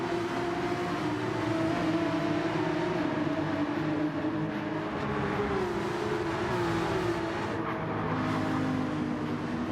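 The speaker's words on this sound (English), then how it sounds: "He's really revving the engine out." Several race cars in a close pack lap a circuit at a Porka Cup round, their engines held at high revs in a steady drone that rises and falls in pitch, heard from a distance.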